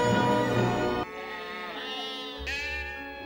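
Several sheep bleat one after another as they are herded out of their pen on a farm, loud and close, with long wavering cries overlapping and no talk.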